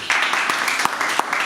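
Audience applause at a Hindi poetry gathering (kavi sammelan) marking Dr. Kirti Kale's birthday: a steady wash of clapping from a crowd, moderately loud and continuous, with a few sharper individual claps standing out.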